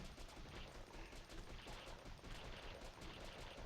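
Rapid gunfire and critical hit sounds in the video game Eternal City, a dense, continuous rattle of shots at low volume without pause.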